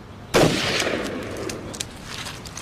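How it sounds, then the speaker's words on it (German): A single sharp 270-meter rifle shot cracks out during SWAT training, followed by a long fading echo rolling across open ground. "Dies ist ein 270-Meter-Schuss"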